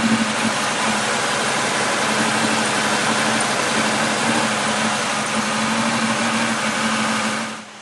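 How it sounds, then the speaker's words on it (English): A car engine with a misfire runs steadily and fairly loud for the whole stretch, a rough droning hum that cuts off near the end; no talking. "It's kind of hard to tell on the video, but it's clearly got a misfire"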